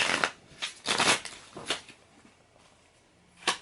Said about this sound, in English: I'll shuffle the cards, and we'll see what is the answer for you